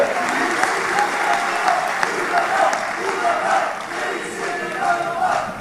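A crowd applauds Erdogan's speech, steady dense clapping filling the whole stretch with a few swells, loud and continuous under a faint murmur of voices.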